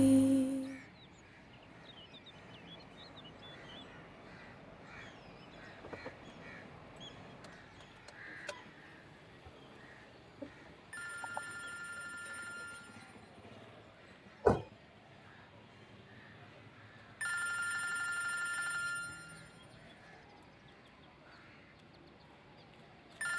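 A telephone rings in two short, steady electronic bursts several seconds apart, moderately loud against a quiet room with faint scattered sounds between rings.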